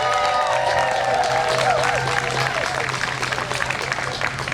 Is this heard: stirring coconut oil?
no